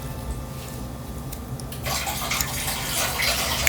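Water runs steadily, then gushes louder and brighter partway through as the flow splashes into the small plastic detergent drawer of an LG washing machine nearby.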